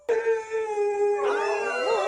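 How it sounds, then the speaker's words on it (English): Several cartoon dogs in an animated film howl together in a loud, sustained celebratory chorus, with overlapping voices joining and bending in pitch partway through. "Scamp joins in on their celebratory howling"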